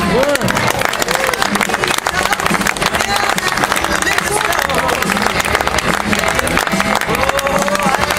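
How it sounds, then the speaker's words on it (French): An audience at a festival award ceremony claps and cheers in sustained applause, with voices and crowd murmur mixed through the loud, dense clapping. "Je demande d'applaudir."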